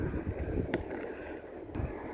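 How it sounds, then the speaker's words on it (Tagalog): Snowstorm wind blows in steady gusts, a close, blustery rush muffled against the microphone, with a few faint knocks and no speech. "Hangin."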